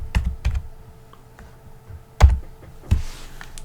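Keys clatter on a computer keyboard as a registry key name is typed, a few separate close presses in short bursts with quiet gaps between them.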